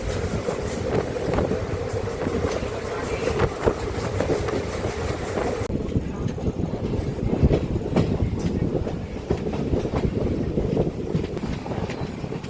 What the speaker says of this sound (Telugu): ఒకసారి మన ట్రైన్ యొక్క స్పీడ్ చూడండి గాయస్, 100 టచ్ అయింది ఆల్మోస్ట్